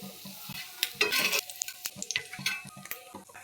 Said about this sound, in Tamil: தோசைக்கல்லில் எண்ணெய் ஊற்றி இதை பாருங்கள், இப்படி 2 பக்கமும் நல்லா வேகும்போது